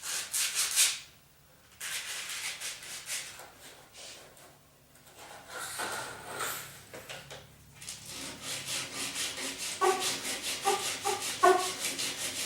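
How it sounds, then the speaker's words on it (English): Sanding block rubbed back and forth along a countertop edge during an installation, a steady close scratching rasp in repeated strokes that pauses briefly and then resumes with quicker, rhythmic passes. "I'm just going to use my sanding block to get it squared up to about the appropriate area"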